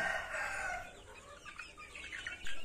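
ELBA chickens cluck busily and continuously while eagerly eating wet feed, a close, steady flock chatter with no one speaking.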